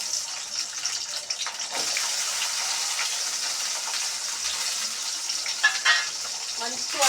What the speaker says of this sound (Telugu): బాగా ఇట్లా పచ్చిమిరపకాయలు ప్లస్ ఉల్లిగడ్డలు ఇందులో వేసుకోవాలి.